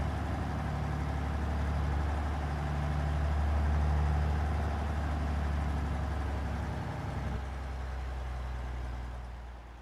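Loaded W9A day cab truck engine in American Truck Simulator, pulling heavy weight with modest horsepower, a steady deep low drone that swells slightly midway and then eases off toward the end, with no talk.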